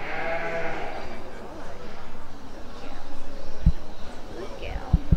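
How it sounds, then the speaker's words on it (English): Sheep bleat in a livestock pen at a young farmers' competition, with several short calls rising over a background of people talking and bustling farm-show noise. "now we're marshalling the sheep"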